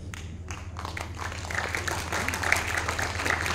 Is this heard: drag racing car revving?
no